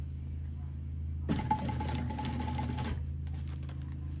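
A home sewing machine stitches lightweight lining fabric in a single steady run of rapid mechanical whirring and ticking, nearby and alone, for roughly two seconds before stopping.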